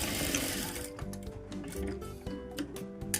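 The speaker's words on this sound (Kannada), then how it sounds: "ಇದ್ರ ಮೇಲಿಂದ ಇನ್ನೊಂದು ಸ್ಟಿಚ್ಚು ಹಾಕ್ಕೊಂಬಿಡಿ." A sewing machine stitches a blouse hemming strip, running close and steady at first, then stopping and starting in short stuttering bursts.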